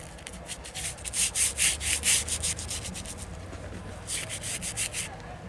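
A paintbrush scrubs paint onto a canvas outdoors by a waterfall at a spring, close rhythmic bristly rubbing strokes in two runs with a short pause between them.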